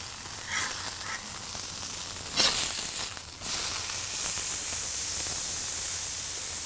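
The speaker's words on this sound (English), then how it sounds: "we're going to toast those Torella rolls all buttered up with that tequila lime" Buttered torta rolls toasting in tequila lime butter on a hot surface, a steady broad sizzle throughout, loud and close, with brief louder hissing swells in the middle and no talk.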